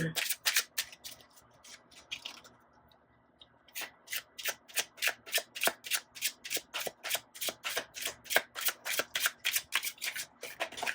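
Tarot cards are shuffled by hand close up in a fast, even run of crisp riffling flicks, with a short pause near the start and a soft voice briefly under the card noise.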